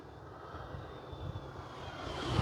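An E-flite Sportix 1.1 m RC airplane flies overhead, its small electric motor giving a steady whine and airflow rush that swells louder toward the end as it comes back in to land.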